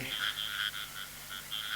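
A frog croaks in a steady repeated series of short calls at night beside a natural canal, close and clear against a quiet background.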